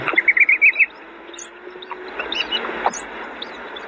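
A brood-parasitic bird that lays its eggs in other birds' nests gives a rapid series of clear, high chirps, loud and close, followed by fainter scattered calls over steady background hiss.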